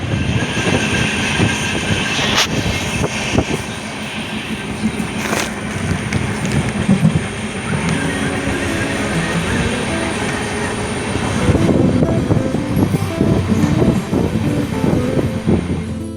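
A train rolls into Coimbatore railway station with a continuous loud rumble of railcars, scattered clanks and squealing wheels, swelling louder toward the end, with no talking.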